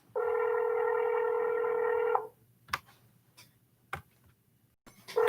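Telephone placing an outgoing real estate cold call: a steady two-second ringback tone, then silence broken by a few faint clicks and a brief burst of noise near the end.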